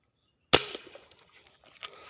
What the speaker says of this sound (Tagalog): Aba, mahina na putok ng baril natin, pero tinamaan.